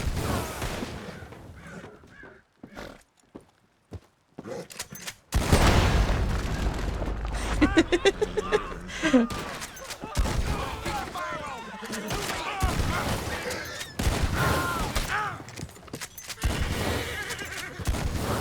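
Gunfire and explosions in Red Dead Redemption 2 around Saint Denis: a loud blast hits, followed by a burst of rapid shots, then continuing rumbling action with scattered impacts, crows cawing and a voice talking at times.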